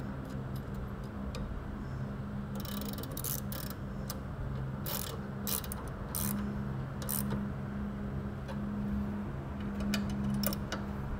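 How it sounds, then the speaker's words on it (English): A small hand ratchet clicks in quick bursts of sharp, close ticks while pegboards are fitted to a 2014 Harley-Davidson Street Glide, with quiet pauses between bursts and no talk. "I like these little hand ratchets because they don't take up any room."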